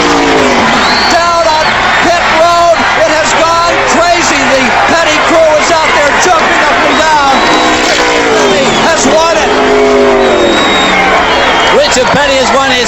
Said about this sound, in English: the crowd here are going absolutely mad